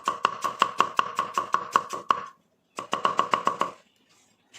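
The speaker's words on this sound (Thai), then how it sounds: "หัวหอมใหญ่นะครับ ล้างให้สะอาด ซอยเป็นเส้น บางๆ เหมือนใส่ยำครับ" A knife thinly slices a washed large onion on a cutting board in regular quick strokes, about a dozen even chops, a short pause, then another run of cuts, close and crisp with no talk.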